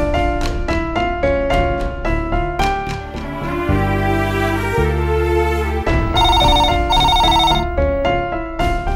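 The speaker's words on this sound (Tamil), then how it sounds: "சரி, பவித்ராவுக்கு ஃபோன் பண்ணி பார்க்கலாம்" A phone rings on an outgoing call, a melodic ringtone of repeated bright tones with a sustained low chord in the middle, loud and close with no voices over it.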